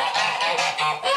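Geese honk repeatedly and close by inside a warm sheepfold that also holds rams and goats, several overlapping calls forming a steady, loud chorus with no talk.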